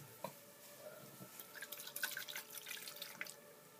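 Water sloshing and dripping inside a drinking bottle, a few soft, faint drips and trickles at close range, scattered irregularly in an otherwise quiet setting.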